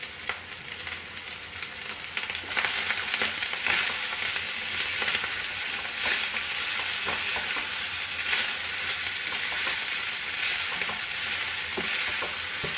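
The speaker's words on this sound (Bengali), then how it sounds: "ভাতগুলো একটু ওলট পালট করে ভেজে নিতে হবে।" Leftover rice stir-fried in a pan sizzles steadily and loudly, with scraping and stirring clatters from the spatula throughout, close up and without speech.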